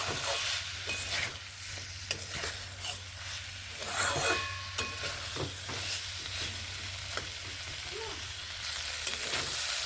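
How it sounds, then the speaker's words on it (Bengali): Spiced beans masala sautéing in a pan: a continuous sizzle broken by repeated scraping stir strokes, with a brief louder flurry of stirring midway. "চল্লিশ থেকে পঞ্চাশ সেকেন্ড আমি এইভাবে কষিয়ে নেব"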